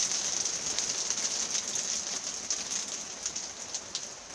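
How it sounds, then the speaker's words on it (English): Torrential rain mixed with hailstones pelting down outside an allotment, a constant dense hiss with sharp pattering hits scattered through it, steady and close with no talking. "As you can see, we've got torrential rain, there's hailstones coming down."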